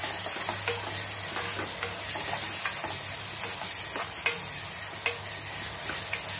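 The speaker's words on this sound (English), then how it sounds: "Okay, let's just fry it now." Egg masala with tomato fries in a pan with a steady close sizzle and hiss, while a spoon stirs it with occasional scraping clicks; no one speaks.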